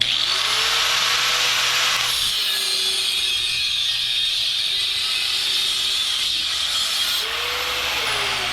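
A handheld power tool cuts through metal in a fabrication shop, throwing sparks. It gives a loud, continuous high grinding hiss that holds steady for several seconds, with a brief dip and change in pitch partway through.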